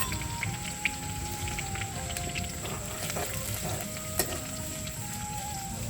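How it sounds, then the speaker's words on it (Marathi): Garlic fries in hot oil for a mushroom vegetable dish cooked on a terrace, with a continuous fine crackling hiss and occasional light pops and spatters. "आता तेल गरम झालं की त्याच्यामध्ये घालायचं आहे लसूण."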